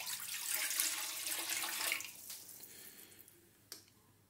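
About 420 ml of water is poured into a bowl for wheat-rye bread dough: a steady splashing rush for about two seconds that thins out and trails off, with one small splash near the end.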